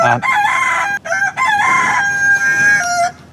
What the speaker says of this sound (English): The rooster was getting too noisy.